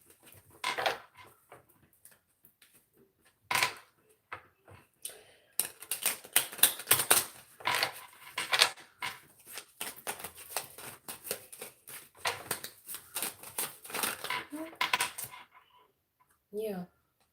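A deck of tarot cards is shuffled by hand close by, giving soft riffling and flicking clicks in irregular runs. The sound is quiet, and a voice talks over much of it.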